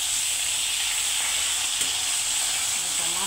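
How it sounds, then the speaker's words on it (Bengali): Bhola fish frying in hot oil, a steady, loud sizzling hiss that continues without a break and carries a faint clink near the end. "মাছটাকে একটু লাল করে ভেজে নেব।"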